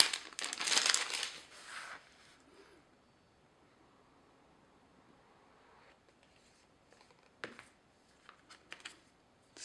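Plastic wrap on an iPhone XS Max box crinkles loudly and up close in a burst during the first two seconds, then the sound drops to near quiet, with a few short rustles toward the end.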